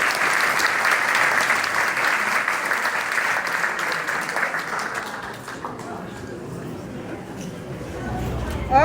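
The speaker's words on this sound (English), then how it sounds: "another round of applause for our speakers" An audience at a conference center opening applauds the speakers with sustained, dense clapping that holds steady, then fades midway as voices and room noise take over.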